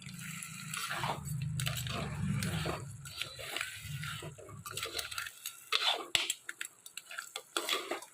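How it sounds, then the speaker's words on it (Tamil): Crab cooking in masala in a clay pot gives soft stirring scrapes and wet squishing sizzle, with low rumbling bursts early on and sharper clinks and scrapes toward the end. "நண்டு நல்லா வதங்கி வருது பாருங்கள்"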